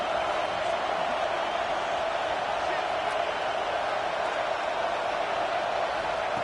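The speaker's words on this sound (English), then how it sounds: "This crowd is trying to inspire this defense to make a big red zone stop." A football stadium crowd roars during a red zone defensive stand, a dense, steady wall of noise that holds at the same loudness throughout.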